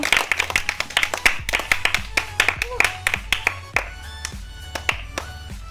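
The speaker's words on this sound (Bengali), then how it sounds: "হাততালি দাও সবে হাততালি দাও" Crowd at a fun biscuit-eating competition claps hands in a steady rapid rhythm, sharp close claps continuing throughout with a voice talking over and music in the background.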